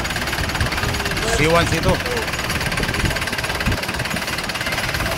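A converted tricycle engine runs steadily with a rough, knocking idle, close and loud beneath someone talking.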